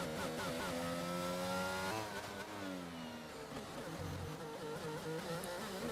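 A race car spins out during a video game racing league round at Australia, its engine revving loudly with pitch sweeping down and back up under a steady roar.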